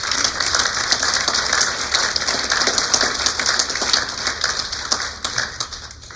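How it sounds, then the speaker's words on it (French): Sustained audience applause fills a hall at an awards ceremony of the Académie de Saintonge, a dense, steady wash of many hands clapping at once, fairly loud and continuous with no talking over it. "mesdames et messieurs, de les applaudir."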